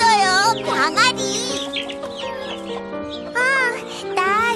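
A cartoon chick in a children's TV show cheeps in high, wavering chirps, several short bursts at the start and end, over bright background music, with a child-like voice speaking between them.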